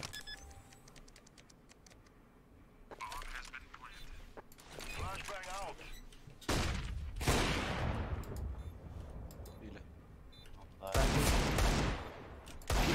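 Bursts of gunfire from a shooter video game, with sharp loud volleys around the middle and again near the end, set against game noise and some keyboard clatter while people talk throughout.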